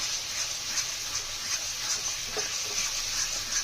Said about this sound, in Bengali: তেল ছাড়া অবধি ভালোভাবে মশলাটা কষিয়ে নাও